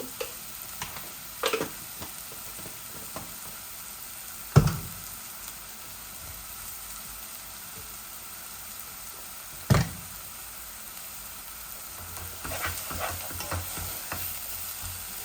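Chicken mince frying in a pan with salt, a low steady sizzle broken by a few sharp knocks and scrapes of stirring, growing busier near the end.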